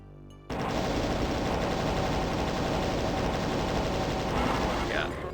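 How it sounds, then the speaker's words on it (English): Plasma gun fire against Barons in DOOM: a loud, continuous rapid stream of shots that bursts in suddenly and keeps going for several seconds. "plasma gun's great at taking out Barons"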